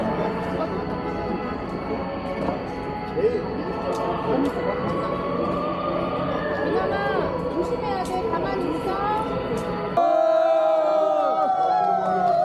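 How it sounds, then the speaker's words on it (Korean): A crowd at a candlelight rally cheers and shouts together, with loud, sustained voices and whoops, and amplified speech over the noise near the end. "힘찬 환호 감사합니다"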